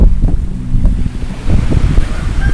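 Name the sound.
water hitting the side of a boat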